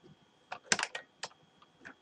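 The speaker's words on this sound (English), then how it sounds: "So I'm going to type wrap content." A short burst of keystrokes on a computer keyboard, a handful of quiet, close clicks in an irregular rhythm against a faint steady background hum.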